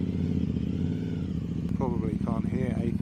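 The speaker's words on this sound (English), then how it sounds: "This is a loud bike though." A loud motorcycle rumbles steadily while being ridden, its low engine drone continuous throughout, with someone talking over it partway through.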